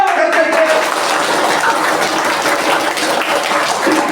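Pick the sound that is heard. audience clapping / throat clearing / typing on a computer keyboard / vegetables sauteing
audience clapping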